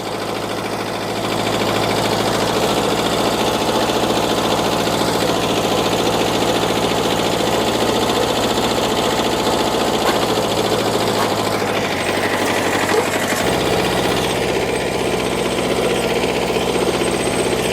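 A small tractor engine runs steadily and loudly throughout in a vegetable garden during potato digging, with a chugging, rattling drone, briefly shifting in tone near the end.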